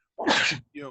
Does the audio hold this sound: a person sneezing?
yes